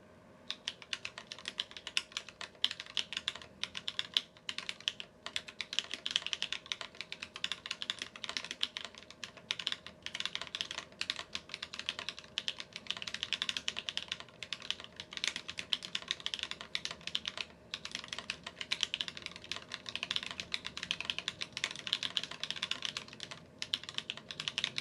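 Steady typing on a Sneakbox AVA mechanical keyboard with Tecsee Ice Candy switches, dense clacking keystrokes at a relaxed, even pace, close and without talk.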